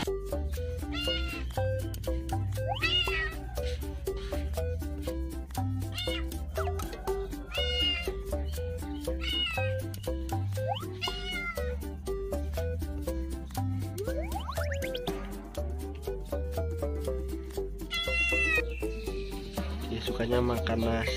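Cats in a pet shop meow repeatedly, high and close, over a steady rhythmic background, with a person talking in between.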